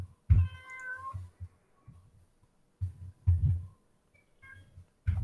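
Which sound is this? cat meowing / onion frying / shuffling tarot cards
cat meowing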